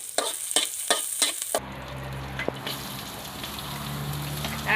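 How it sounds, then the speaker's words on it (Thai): Minced garlic drops into a little hot oil: a few rough scraping bursts come first, then a continuous close crackling sizzle with an occasional tap of a utensil. "ขั้นตอนแรกใส่กระเทียมสับลงไป เจียวกับน้ำมัน"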